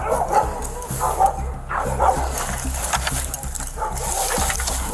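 A dog barks in short repeated yips and bow-wows, close and fairly loud, mixed with whimpering and a person talking nearby.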